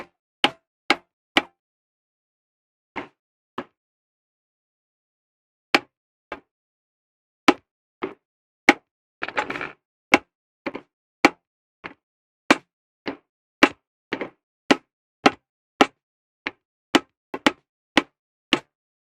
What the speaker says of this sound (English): I got the trusty old rubber mallet here